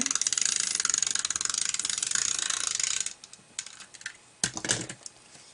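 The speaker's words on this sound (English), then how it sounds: "I'm just going to use my good old tape gun here" A tape gun laying adhesive while making holiday tags with a box holder: a fast run of close, crisp ratcheting clicks, then a pause and a few shorter bursts of clicking.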